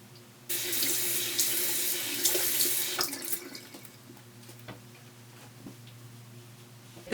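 Running tap water splashes into a bathroom sink as a face is rinsed, a steady close rush with small splashes that gradually eases and becomes more broken, no voices.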